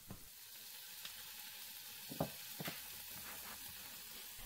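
Carne asada sizzles steadily in a hot pan just after being flipped, a soft continuous crackle with a few sharper pops and scrapes, close and alone with no talking.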